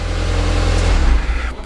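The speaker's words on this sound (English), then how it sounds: "Now I haven't started this car for a little while actually. Let's give it a start." A car engine starting after sitting unused for a while: a loud, steady low rumble that rises slightly, then settles near the end.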